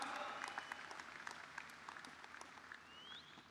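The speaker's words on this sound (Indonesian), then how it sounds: "kita berikan aplaus kepada seluruh kader" Crowd applause at an anniversary rally for GP Ansor cadres, dense clapping filling a large hall, fairly distant and fading slightly over a few seconds.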